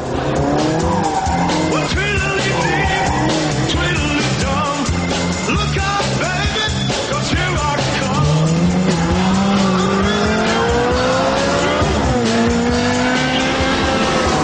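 A Ferrari 360 Challenge Stradale slides on track, its engine howling and rising while the tires squeal in long pitched streaks, loud and close with the screech growing stronger toward the end.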